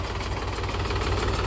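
A Mahindra tractor engine running steadily at a low, knocking idle-like rumble, loud and continuous throughout with no voices.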